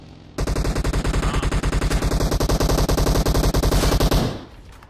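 Automatic gunfire in the video game PUBG Mobile, a loud, close, sustained burst of rapid shots lasting about four seconds and tailing off abruptly, with no speech.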